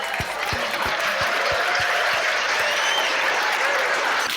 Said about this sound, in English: how about a nice round of applause for James Corbett?